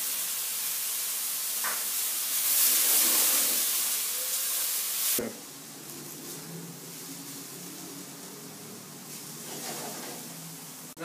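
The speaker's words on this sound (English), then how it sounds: "Now I'm going to add my diced garlic. And let this sweat" Diced garlic sizzles and sweats in a pan with a soft, steady hiss that starts brighter and then settles to a quieter, even frying crackle after a clank midway.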